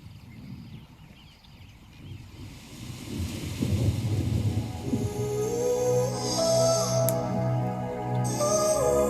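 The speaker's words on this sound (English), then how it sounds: "it starts to rain" Rain pours steadily in a dark, moody TV drama scene while a deep roll of thunder rumbles and builds, the downpour growing heavier and filling the scene with a dense hiss.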